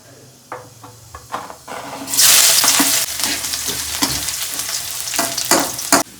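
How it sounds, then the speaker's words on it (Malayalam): Chopped ginger and garlic drop into hot oil with mustard seeds and burst into loud sizzling frying. Stirring scrapes and clinks follow as the hiss continues. "ഇഞ്ചി വെളുത്തുള്ളി കൊത്തി അരിഞ്ഞത് ഇട്ട് കൊടുക്കാം."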